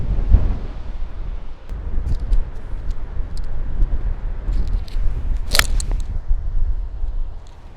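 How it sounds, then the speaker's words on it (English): Heavy 20mph desert wind buffets across an open golf course in a steady, loud roar, with faint clicks and one sharp burst near the end. "the wind is blowing heavy left"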